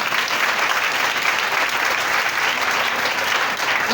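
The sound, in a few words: church congregation clapping hands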